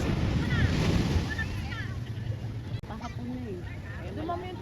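Sea waves wash and rush in broad noise with wind buffeting the microphone on a beach, while people talk nearby over the surf.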